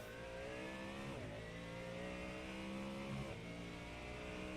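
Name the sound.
race car passing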